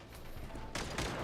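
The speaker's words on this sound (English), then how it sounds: "Oh, I'm shooting." Player gunfire in Genshin Impact, a brief stretch of muffled background followed by a loud burst of rapid shots near the end.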